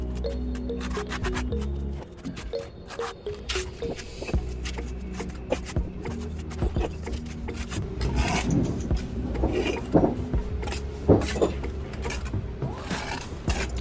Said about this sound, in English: So here I'm banging the wall just to hear the sound to get the studs